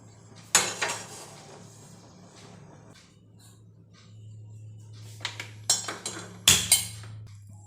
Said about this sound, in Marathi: आणि ही चेचून घ्यायची तिरफळा.